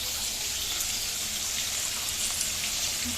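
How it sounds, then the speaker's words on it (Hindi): Pot of water boiling with spices for beef pulao, giving a quiet, steady bubbling hiss with a soft rumble underneath and no voices. "जिसका पानी उबल रहा है, जिसमें सब मसाले हमने डाले हैं।"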